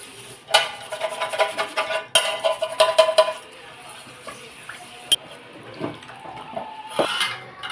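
An iron dosa pan being scrubbed with rice-washed water, scraping and metallic clinks in quick bursts, then quieter splashing and rubbing with occasional clanks.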